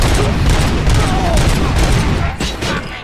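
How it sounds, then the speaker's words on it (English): Dense bursts of gunfire crackle and boom almost without pause in the video game RoboCop: Rogue City, loud and close, with a slight dip in intensity toward the end. "Am I hearing gunshots?"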